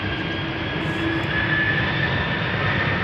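A KLM narrow-body jet airliner bound for Dublin drones steadily at Amsterdam Schiphol Airport, a continuous engine roar at moderate distance with a faint whine running through it.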